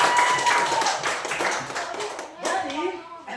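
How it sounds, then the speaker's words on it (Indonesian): A group, apparently children, claps hands together in a short burst of several quick claps, with a voice and talking mixed in, fairly close and loud. "Oke, kita tepuk tangan dulu."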